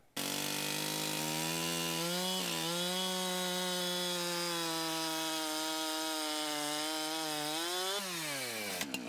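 A chainsaw cutting firewood in a log yard, running at a loud, steady high whine for the full span, its pitch dipping briefly as it bites into wood and rising again near the end.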